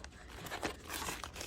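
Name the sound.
plastic bags crinkling and tearing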